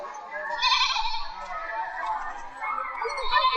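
A goat bleats in a loud, drawn-out, wavering cry that carries on for several seconds, close and alone.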